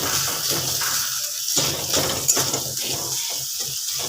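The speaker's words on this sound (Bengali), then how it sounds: "কিছুক্ষণ এইভাবে মশলাটাকে কষে নেব" Spice paste for a jackfruit curry being fried and stirred in a pan, giving a steady soft sizzle with scraping spoon strokes and light clinks against the pan, close up with no talk.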